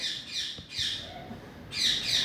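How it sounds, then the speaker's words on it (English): Birds squawk and chirp outdoors in a few repeated bright bursts of calls, fairly close, with light background noise and no talking. "There's a lot of birds chirping today."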